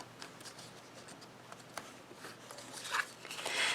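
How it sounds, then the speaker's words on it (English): Paper tabs of a small craft box being folded and creased by hand, with soft rubbing, crinkling and scraping strokes, brief and close, growing busier toward the end. "I'm going to fold each of these tabs"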